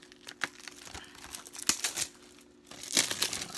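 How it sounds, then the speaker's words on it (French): Crinkly plastic wrap crackles and tears off a packaged mini-series box set, close and quiet, in irregular bursts with a short lull before a final flurry of crumpling. "Je vais le déballer premièrement."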